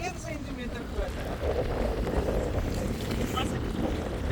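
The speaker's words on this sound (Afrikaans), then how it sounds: "Ek weet nie of ek jou kan hoor met die wind nie." Steady wind buffets the microphone on a boat on the Breede River, a continuous rough rumble with water and hull noise underneath, close and unbroken throughout.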